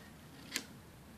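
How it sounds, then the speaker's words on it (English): Scissors snip through white washi tape once during a paper planner decoration session, giving a short, crisp, close cut over a quiet room. "I'll just use my scissors to cut this off."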